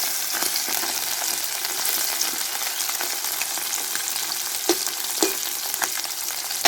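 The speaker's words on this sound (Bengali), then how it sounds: "তেল গরম হয়ে গেছে, মাছগুলো দিয়ে দেব।" Small egg-laden fish fry in hot oil, giving a continuous loud sizzle and crackle with a few sharp pops and spatters near the end. No voices.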